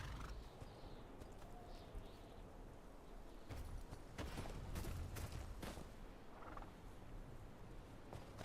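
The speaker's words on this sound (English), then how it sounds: "Okay, our horse is stuck." Horse from the Game of Thrones Kingsroad video game, with hoof clip-clops and movement sounds over a steady ambient game background, a few louder bursts near the middle.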